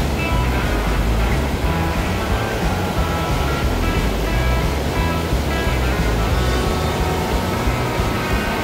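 Loud, continuous rush of glacier meltwater flowing, close and steady throughout, with no voices, in Switzerland.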